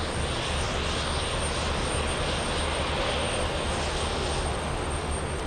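A large airliner taxis at Frankfurt airport toward runway 18, its engines giving a steady, loud broadband roar that holds even and unbroken throughout, with no talking over it.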